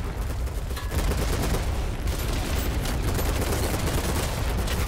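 Sustained gunfire in the BattleBit Remastered shooter game, dense overlapping rifle and automatic shots rattling continuously throughout, loud and fairly close, with no voices.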